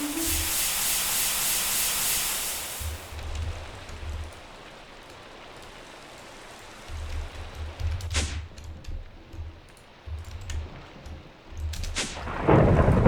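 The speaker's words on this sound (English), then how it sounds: "Oh yeah, it's a thunderstorm." Thunderstorm weather in the Minecraft modpack FTB Interactions: steady rain hiss with a few sharp thunder cracks around the middle and end, low rumbles beneath, no talking.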